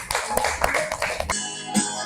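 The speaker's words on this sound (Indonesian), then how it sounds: "Tepuk tangan." Group of schoolchildren in a classroom clapping briefly, a short burst of scattered handclaps for about a second before it stops, followed by a faint stray sound.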